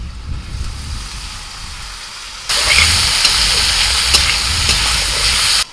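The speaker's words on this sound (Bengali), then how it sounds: "আলু কপিটা একটু ভাজা হলে ওর মধ্যে আমি দিয়ে দিচ্ছি একটুখানি পেঁয়াজ আরও কিছুক্ষণ ভেজে নেবো" Potato and boiled cauliflower with salt and turmeric fry in a pan, a low bubbling sizzle that jumps to a loud, bright, steady crackle halfway through, with occasional stirring clicks.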